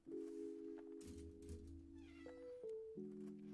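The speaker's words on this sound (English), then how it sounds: "Yes, the cat is definitely making herself known." A female house cat meows insistently nearby indoors, several drawn-out, rising and falling cries in quick succession.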